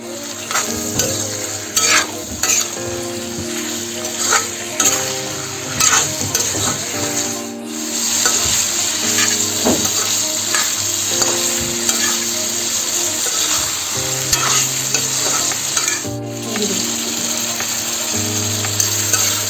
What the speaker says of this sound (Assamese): এতিয়া ভালকৈ ধুনীয়াকৈ মিক্স কৰি দিম